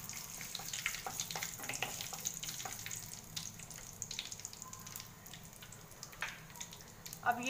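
Cumin seeds, fenugreek, bay leaf and a clove sizzle and crackle steadily in hot oil for a tempering, a close, continuous frying hiss with scattered pops throughout.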